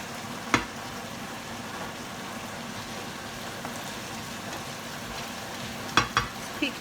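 Mixed fish and prawns fry in a pan with a steady, low sizzle throughout, broken by a sharp clatter near the start and a few louder knocks and clinks toward the end.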